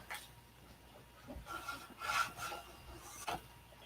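Hand sanding a model wing with 320 grit sandpaper, faint close rubbing strokes in an irregular rhythm over quiet background hiss, with no talk.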